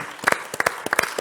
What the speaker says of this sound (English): I think Alexei deserves a better clap from us